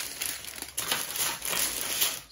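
Plastic kit bags crinkle and rustle up close as they are pulled out one after another, a busy crackling texture with short bursts of louder crumpling and no talk.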